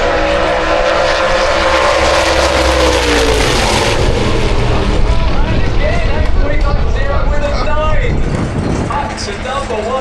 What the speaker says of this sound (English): Turbo car to the front.